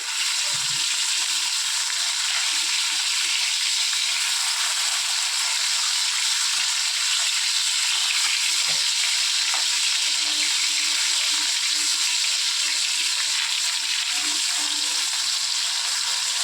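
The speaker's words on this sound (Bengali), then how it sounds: "মাছগুলো ভালো করে আমরা ভেজে নেব একটু কিছু।" Small fish frying in oil for a potato-and-pointed-gourd fish curry, giving a continuous bright hiss with a few faint low knocks from the pan underneath, close and steady.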